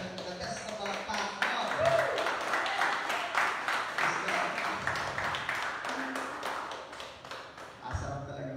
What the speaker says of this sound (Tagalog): bigyan mo siya ng lakas na palakpak?